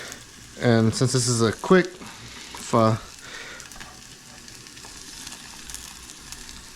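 Onions fry in a hot pan for a quick pho, a steady sizzle running underneath throughout while a person talks over it near the start.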